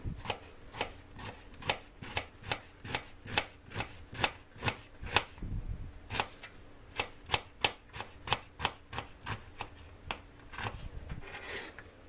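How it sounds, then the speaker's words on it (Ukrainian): A knife slices an onion into half rings on a cutting board, a steady series of crisp, close chops at an even rhythm with a short pause midway, quiet and without speech. "Беремо нашу цибулину, я ріжу півкільцями."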